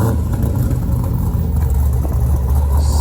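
A Pontiac G8 with an LS V8 running nearby, a deep loud rumbling engine note with slight revving swells, steady over the whole stretch with no talk.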